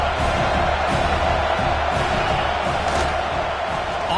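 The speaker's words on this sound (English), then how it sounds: "This crowd knows when to bring it." Stadium crowd in a football video game roaring and cheering, a dense, loud, continuous wash of noise with no break.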